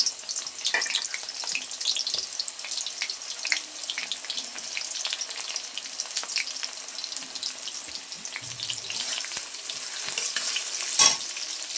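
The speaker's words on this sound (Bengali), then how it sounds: "আমি এখন পেঁয়াজ দিয়ে দিচ্ছি তেলের মধ্যে" Onions hit hot oil in a pan for vegetable khichuri, giving a soft continuous sizzle with scattered crackles and pops, plus occasional stirring scrapes, fairly quiet and close.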